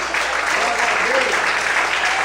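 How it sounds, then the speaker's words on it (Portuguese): A church congregation applauds during a Portuguese-language sermon, a dense, steady wash of clapping filling the whole moment with voices mixed faintly underneath. "Aplaude o Senhor."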